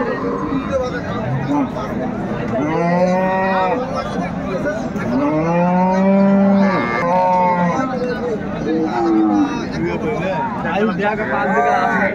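Cows and calves at a rural cattle market in Dinajpur, Bangladesh, low with long, drawn-out moos, several calls rising and falling one after another over a steady murmur of crowd chatter.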